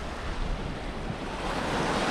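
Waves crash steadily against the Lake Superior shore at Little Sand Bay near Bayfield, Wisconsin, a dense continuous roar of surf mixed with wind buffeting the microphone, with no voices.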